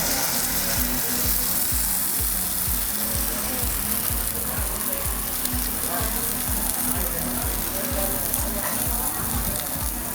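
Steady sizzling of beef frying in hot oil, a dense crackling hiss running throughout with a low rhythmic thumping underneath.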